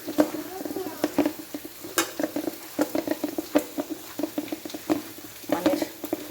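Spices and ground turmeric being stirred into a cooking pan for bhuna dal, heard as irregular scraping and tapping strokes of a spoon against the pan over a faint sizzle, close by and without talk.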